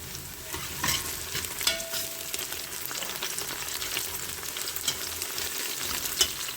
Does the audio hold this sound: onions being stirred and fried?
yes